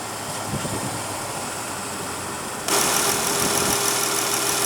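A 2015 Chrysler 300 with a 3.6 L V6 idles steadily with a low even hum, close and moderately loud, stepping up slightly in level partway through with no talking.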